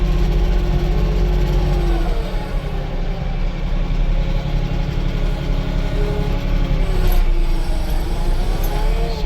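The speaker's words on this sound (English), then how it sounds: "You can kind of hear those RPMs increase as you go into the dirt pile, pressing the pedal down" A Kubota tractor's engine works steadily while pushing into a dirt pile, its mid-pitched drone rising in revs under load with mechanical clanking and rattling throughout, continuous and close.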